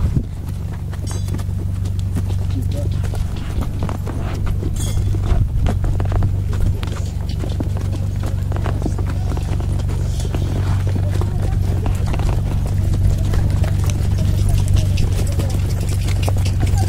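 Donkey hooves clip-clopping on the ground in Petra, Jordan, a steady rapid beat as the animal speeds up, close to the rider and heard continuously beneath nearby talk and outdoor noise.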